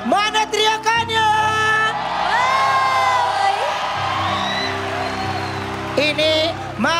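A studio audience at a televised dangdut karaoke show cheers, whoops and shouts loudly in a sustained roar, with sharp bursts of yelling at the start and end.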